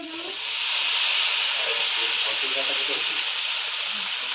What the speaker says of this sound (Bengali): মশলা ভাজা হয়ে গেছে, সবজিগুলো দিয়ে দেবো।